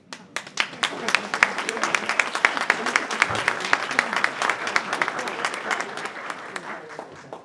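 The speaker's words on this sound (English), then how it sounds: "Let's give Superintendent Smith and Chairman another round of applause." An award ceremony audience applauds in a dense, sustained burst of many hands clapping, steady and loud throughout, with no talk over it.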